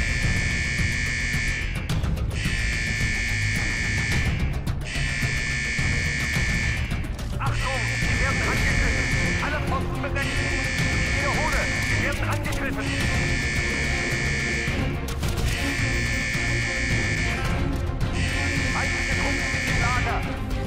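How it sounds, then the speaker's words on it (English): An alarm buzzer in the video game Call of Duty: Black Ops blares in repeated harsh on-off blasts roughly every two seconds, loud over a busy background of game noise. "Sound the alarm."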